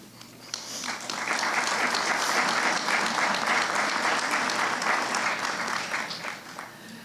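Audience applause for nursing graduates at an LPN pinning ceremony, a loud, dense round of clapping from a large crowd that swells quickly, holds steady and tapers near the end.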